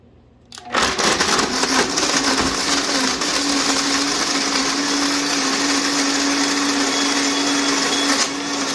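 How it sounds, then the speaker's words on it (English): A blender whirs continuously as it blends dates and water for a vegan pumpkin pie, starting abruptly after a faint lead-in and running loud and steady for about seven seconds before easing slightly near the end. "we put that in the blender here"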